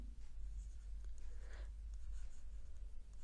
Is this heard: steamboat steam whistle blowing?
no